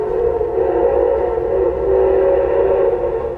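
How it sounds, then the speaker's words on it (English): A train drawing into the MCR station at St. Thomas, its long steady whistle-like tone sustained and fairly loud throughout, with low rumble beneath and no voices. "When a train pulls up to Casso, MCR as it was known then"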